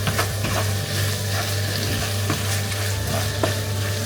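Egg manchurian fries in a pan while a spoon stirs it, a dense close sizzle broken by repeated scraping and tapping strokes against the pan, over a steady low hum with no voices.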